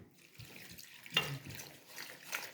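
Two litres of water splash and pour in short bursts into a pot of sand for sand-brewed coffee, a faint liquid gushing with a sharper splash partway through, fairly quiet and close.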